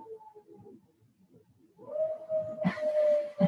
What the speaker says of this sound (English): I don't know if you can hear the wolf howling in his sleep.